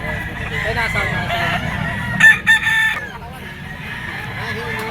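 A young gamecock stag of the lasak type crows at a live-bird market stall, a short loud crow rising over steady crowd chatter and background noise, with people talking nearby.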